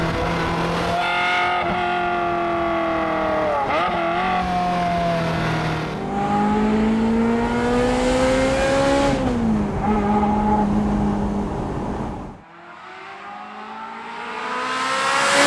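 A Ferrari F355 engine revs high and wails loudly, its pitch climbing and falling through gear changes, with no speech.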